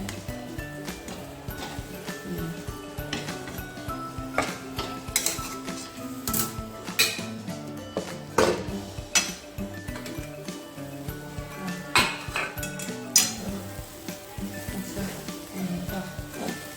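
Cucumber zunka being stirred in a pot with a metal utensil on low gas, the lid just removed, giving repeated clinks and scrapes against the pot over steady background noise.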